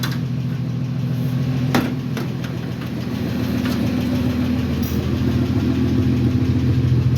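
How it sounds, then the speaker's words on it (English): An engine with a slight exhaust leak idles steadily at close range, a low continuous rumble with a faint ticking puff from the exhaust and a couple of sharp knocks. "I got a little bit of an exhaust leak yet, but that's okay. But it really sounds nice."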